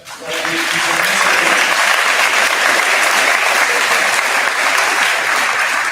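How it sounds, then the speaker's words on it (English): Audience at a grade 12 high school graduation ceremony gives a sustained round of applause, loud, dense clapping that swells quickly and holds steady from a large crowd close by. "We'll just give a round of applause for making it through that."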